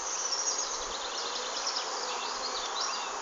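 Honeybees swarm around a polystyrene hive in an apiary, a steady, dense buzzing from many insects close by, continuous and without talk.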